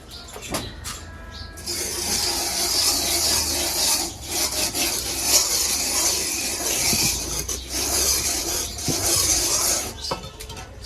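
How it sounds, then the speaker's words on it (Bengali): Biuli dal (urad lentils) dry-roasting in a pan, stirred with a steady, close scraping and rasping that runs almost without pause, with no one talking. "এভাবে বাকি ডালগুলো ভেজে নেব।"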